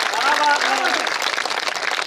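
An audience claps steadily at a patriotic Hindi poetry gathering, a dense patter of applause with a voice calling out over it near the start.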